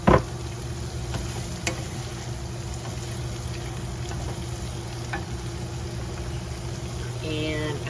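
Spring onions sizzling in a hot pan, a steady quiet frying hiss over low kitchen hum, with a brief clatter at the start and a few light utensil knocks.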